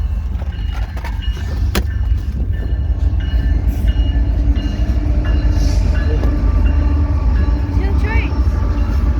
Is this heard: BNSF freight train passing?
yes